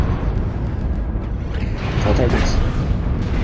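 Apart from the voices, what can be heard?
missile explosions in a video game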